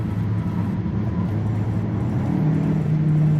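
A 2021 Kia K5 sedan rounds a corner, its engine and road noise a steady low rumble heard close from inside the cabin, with a droning tone rising slightly near the end; no one speaks.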